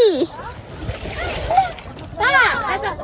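Water splashes and sloshes as a family bathes in a lake, with intermittent splashes heard close by under loud, overlapping voices.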